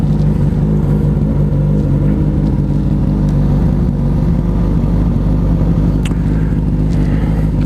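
A Suzuki GSX-S 1000 motorcycle idles while warming up, giving a loud, steady low rumble that holds evenly from start to finish, close by with no speech.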